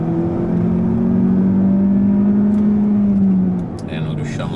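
A Mazda3 e-Skyactiv X engine holds a steady, loud drone with a slowly rising pitch, as if revving smoothly, then eases off near the end.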